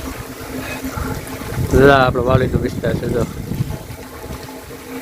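Heavy rain pouring over open farmland, a dense steady hiss running throughout, with someone talking over it partway through.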